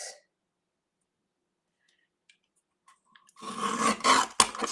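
A paper trimmer cutting a sheet of paper at a craft table, heard as one short, close rasping slide near the end after a long near-silence.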